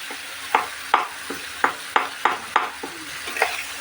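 Pieces of fish fat fry in hot oil, crackling with a series of sharp, evenly spaced pops over a low, continuous sizzle as they are stirred in the pan.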